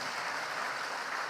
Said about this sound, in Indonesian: Tepuk tangan untuk PKS.